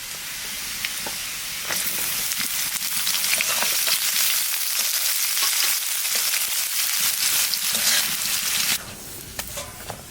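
Chopped ginger, garlic and onion hit hot oil in a pan for mutton kala bhuna and keep up a loud, steady, close sizzle. Stirring clatters now and then, and the sizzle eases near the end, with no talk.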